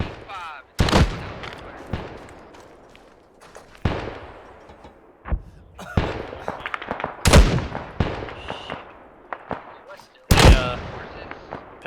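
Gunfire in ARMA 3 during a combat operation: sharp, loud shots and bursts crack out at irregular intervals, some near and some more distant, with voices talking in between.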